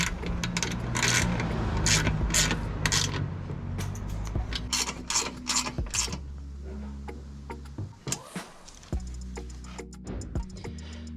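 A catch can mounting bolt on an R32 GT-R is snugged down with quick mechanical ratcheting clicks and creaks, dense at first, then thinning to scattered ticks and taps close by.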